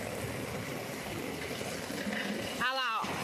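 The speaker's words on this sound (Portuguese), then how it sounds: "Olha lá como que fica, o tanto de água que desce." Heavy rainwater runs down a street in a steady broadband rush of flowing water, continuous and fairly close, with a short burst of a voice near the end.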